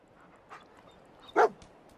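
Dogmeat, the companion dog in Fallout 4, gives a single short bark or yip at moderate distance, with a fainter one earlier, over quiet game ambience.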